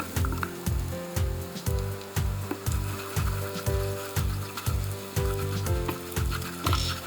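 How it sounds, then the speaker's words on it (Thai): Garlic and pepper sizzling steadily in oil in a pan, with regular rhythmic scraping and stirring strokes close by. "เจียวให้กระเทียมพริกไทยหอมสักครู่นครับ"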